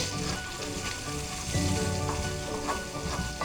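Hamburger meat and onions browning in a pan for Salisbury steak, a close, steady sizzle and crackle that runs the whole time without pause, swelling slightly midway.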